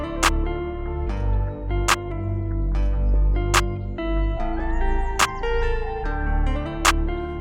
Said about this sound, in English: Just a simple clap pattern, as you guys can see.